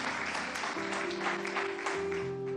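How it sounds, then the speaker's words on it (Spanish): A church congregation applauds steadily through the whole moment, a broad, even wash of clapping with a sustained organ or keyboard tone underneath, moderately loud and roomy. "dale un fuerte aplauso"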